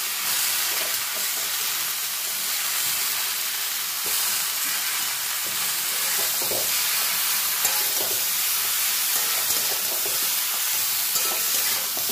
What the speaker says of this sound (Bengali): দেখুন সবজিগুলো সব ভাজা ভাজা হয়ে গেছে। এবার আমি বেগুনটা অ্যাড করে দেব।